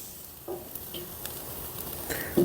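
Split chicken leg quarters sizzle softly on a charcoal kettle grill over HEB briquettes just after being flipped, a faint steady hiss with a few small crackles and a brief clink near the end.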